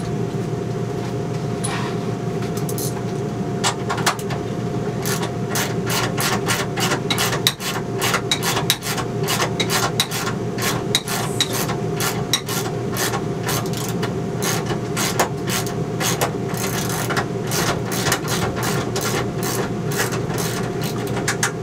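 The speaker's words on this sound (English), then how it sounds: "I just started undoing the bracket bolts" A ratchet undoing the bolts on a TV bracket inside a 2008 National RV Tropical, with rapid repeated clicking in steady bursts over a low constant hum.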